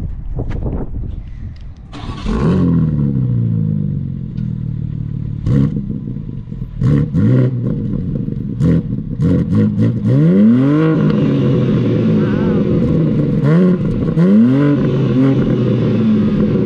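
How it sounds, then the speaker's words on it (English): A 2021 BMW M3 Competition engine cranks and catches, then settles into a loud, close idle. Several sharp revs climb and fall back, with brief clattery blips between them. "I'll start it up, get some rev clips."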